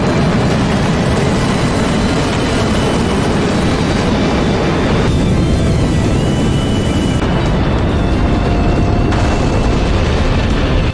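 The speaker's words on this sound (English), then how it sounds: "Bomb." A rapid string of bomb explosions in the DCS World flight simulator, dropped during a Cold War-era naval strike mission, forms a dense, continuous rumbling roar with heavy low booms and jet engine noise underneath throughout.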